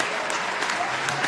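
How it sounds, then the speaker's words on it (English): A crowd at a rugby union grand final applauding as an injured Gordon player is carried off the field, steady dense clapping with faint commentary over it. "As Gordon player is carried off the field to a round of applause"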